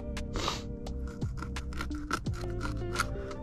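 A crappie bait fish is cut in half for catfish bait on a kayak, with close snipping and scraping clicks in a quick irregular series and no talk.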